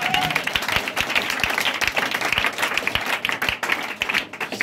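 Church congregation breaking into loud, sustained applause and cheering acclamation, dense steady clapping filling the whole stretch with a few voices rising through it.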